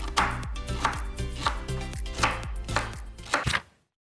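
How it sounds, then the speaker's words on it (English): Knife chopping through fennel on a board in quick, steady strokes, about a dozen crisp chops close up, ending abruptly. "We're going to chop this in half really roughly and then into bite-sized pieces"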